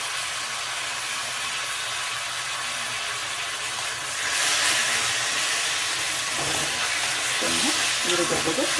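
Onion and tomato fry together in a pan, a steady sizzling hiss that brightens and thickens partway through, with occasional stirring scrapes near the end.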